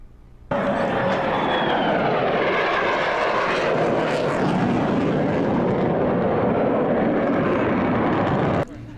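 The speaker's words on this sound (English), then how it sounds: "Did you hear all the planes over Sunrise?" Airplanes roar overhead at the California Capitol Air Show, a loud sustained engine drone that swells and shifts in pitch for about eight seconds before cutting off, with no talk.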